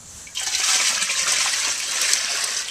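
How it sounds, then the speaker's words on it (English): Homemade weed tea poured from a bucket onto a garden, a steady close splashing gush that begins abruptly and runs on without a break. "you can just scoop it up into a bucket like this, and you pour it back onto your garden"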